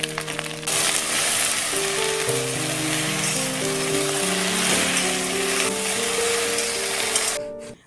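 Okra fries in a pan in a home kitchen, giving a constant loud sizzle and hiss that lasts nearly eight seconds, with steady tones running underneath before it cuts off.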